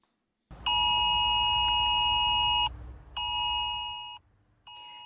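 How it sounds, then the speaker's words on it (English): UK emergency alert test tone sounding on a mobile phone: a loud, shrill, multi-toned electronic blare held steadily for about two seconds, then repeated in shorter bursts after brief gaps, with no talking over it. "You'll hear a siren-like sound go off on your phone for 10 seconds, about the same volume as a voice call."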